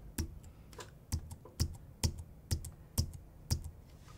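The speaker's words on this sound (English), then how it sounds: "I can also use the arrow on my keyboard here." Keys on a computer keyboard are pressed one at a time in a slow, even rhythm, about ten crisp clicks, each a sharp, close tap with quiet between strokes and no talking.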